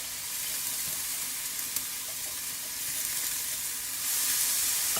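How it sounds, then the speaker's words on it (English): Onions and garlic sweating in a skillet over fairly high heat, a steady soft hiss of sizzling oil that grows slightly louder near the end, heard alone without talk. "Just let that sweat down for a little bit."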